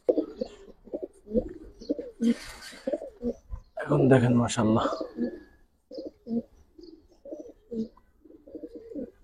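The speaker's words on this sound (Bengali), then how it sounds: "ভাই ঘিরা গলা কবুতর" Giribaz pigeons coo in soft, repeated low throaty phrases close by, with a burst of wing flapping midway and someone speaking briefly.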